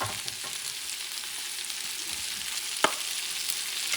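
Rice is stirred into a sizzling pork rib base in a pan, giving a steady close frying hiss with soft scraping and one sharp clink, and no talking.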